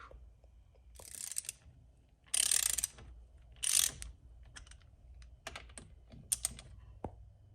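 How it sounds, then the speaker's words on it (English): Bolts being loosened with a 1/2 inch socket and ratchet on a T56 Magnum Nightstick shifter, giving repeated clicking ratchet bursts and metallic clinks at close range, with a few louder scraping bursts and no talk. "1/2 inch kind of came in the best for this. Go ahead and remove these bolts here."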